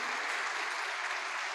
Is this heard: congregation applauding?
yes